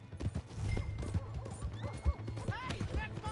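Horse hooves clip-clop in Red Dead Redemption 2, quick irregular thuds close by with a horse's whinny mixed in, while voices talk over the action.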